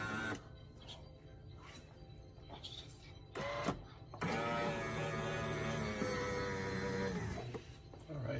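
A Café Affetto automatic espresso machine with a 20-bar pump switches on with a few soft clicks, then gives a steady mechanical whir for about three seconds, close by in a quiet room.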